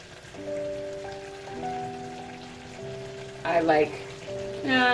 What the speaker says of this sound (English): I've got the ground beef started and it's partially cooked